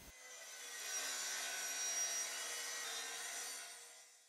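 A strip of 1 cm thick plywood, 10 cm wide, being cut, heard as a faint continuous rasping whine that swells and fades over a few seconds in a quiet workshop.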